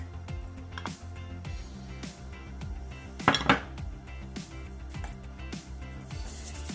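Cabbage roll filling of onion mixture, rice, salt and ground beef being mixed in a bowl, with repeated clinks and scrapes of a utensil against the dish, close up, one brighter clatter midway, no voices.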